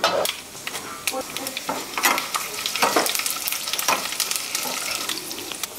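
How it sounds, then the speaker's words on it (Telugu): Mustard seeds and lentils crackle and sizzle in about one and a half tablespoons of hot oil for a tempering, with steady frying hiss, sharp popping bursts and occasional stirring clatter. "ఇంక ఇవన్నీ వేసుకుని పోపు పెట్టుకోవడమేనండి."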